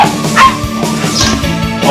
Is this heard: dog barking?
yes